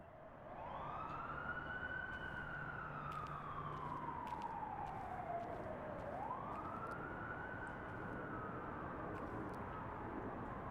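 A wailing emergency vehicle siren in a gritty 1990s New York street scene sweeps up and down in long, slow cycles, moderately distant, over a constant low rumble of traffic with faint clicks scattered through.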